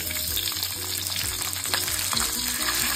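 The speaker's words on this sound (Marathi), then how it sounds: "त्यानंतर मी खालच्या बाजूने भाजून झाल्यावर बाजूने असं भाजून घेते आहे।" A stuffed capsicum roasting in a pan keeps up a close, steady sizzle, with some brief scraping and shifting noises as it is turned onto its side.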